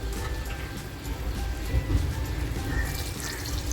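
Water used to rinse a spice container is poured into a cooking pot of spiny lobster masala, a steady, close splashing rush with a brief louder gush midway and no speech.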